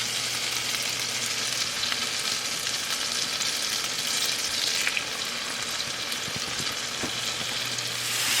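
Alaskan wild cod pan-searing in butter, giving a loud, steady, close sizzle and crackle that runs unbroken with only faint clinks, and no voices.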